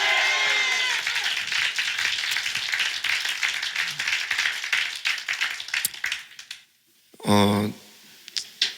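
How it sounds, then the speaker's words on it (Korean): A church congregation at a Korean Sunday morning worship service claps loudly and steadily for several seconds, the sound thinning into scattered claps before dying out, followed by a brief spoken voice. "하나님의 살아계심을 믿는 사람은 아멘 하면서 우리 하나님께 크게 박수로 영광 돌리겠습니다"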